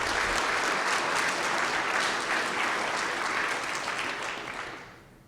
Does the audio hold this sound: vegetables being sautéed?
no